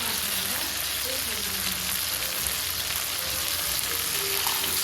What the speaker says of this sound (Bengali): এবার বরবটিটা দিয়ে একটু নেড়ে চেড়ে নিচ্ছি।